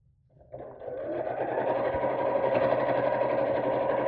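A sewing machine stitches a purse organiser seam and passes over a lump of elastic. After a quiet start the motor hums in, then runs steadily and fairly loud with no talking.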